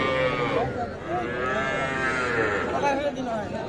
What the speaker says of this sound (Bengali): এটা একটা ষাঁড় বাচ্চা।